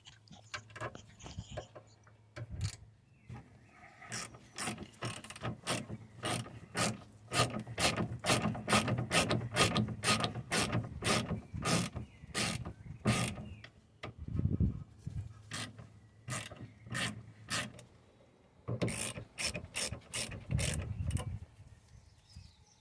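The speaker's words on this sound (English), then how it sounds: "undo the guide pins inside with a 7mm Allen" A 7mm Allen key undoes the caliper guide pins on a Ford Focus ST225's rear brake, a long, close run of rapid ratcheting clicks in steady bursts with brief pauses between them.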